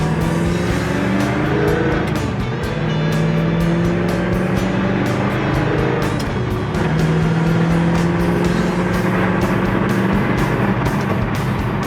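A Ford Mustang GT's 289 V8 engine revs loudly and climbs through several gears, pitch rising and dropping with each shift, running steadily close by.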